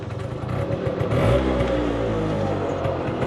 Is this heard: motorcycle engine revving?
yes